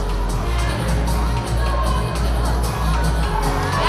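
A crowd at a scaled-division fitness competition cheers on an athlete lifting, a loud, steady wash of shouting and voices that carries through the whole stretch over a low, constant hum.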